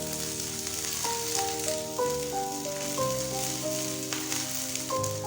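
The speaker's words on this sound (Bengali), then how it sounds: "আদা কাঁচা লঙ্কা বড় বড় করে কেটে রাখা পেঁয়াজ সব কিছুকে হালকা করে ভেজে নেবে" Ginger, green chilli, whole garlic and large-cut onion fry in oil in a pan with a continuous close sizzle, while faint steady musical tones play underneath.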